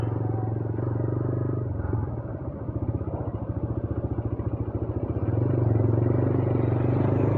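A TVS Raider motorcycle is ridden with a steady engine drone close by, pulsing as it dips a little mid-ride and then rises in level toward the end. No one speaks.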